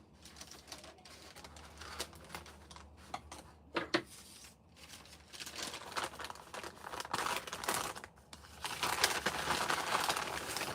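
Parcel packaging being torn open and crinkled during a Christmas unboxing, with close, busy rustling and crackling that turns into dense, sustained crinkling toward the end, with no voices.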